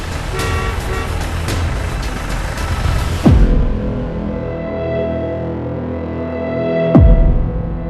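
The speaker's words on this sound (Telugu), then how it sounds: "ఓ కారు శబ్దం విన్నాక మేము ఊపిరి పీల్చుకున్నాం" A car approaches on a road through a forest, its engine a low steady rumble under a broad wash of road noise, with two sharp, loud passing swells a few seconds apart.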